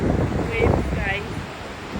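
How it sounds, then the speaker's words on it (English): Ocean waves on Currumbin beach, a broad windy roar of surf mixed with heavy wind buffeting on the microphone, with a few faint high bird-like chirps and a brief voice in the background. "Waves guys."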